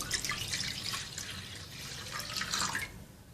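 Two cups of water pour into a cooking pot holding crushed spices, cinnamon and black cardamom, for a Lahori chicken karahi: a quiet, continuous splashing trickle lasting a few seconds, then stopping.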